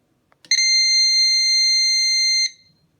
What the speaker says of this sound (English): this will be my Edwards smoke detector test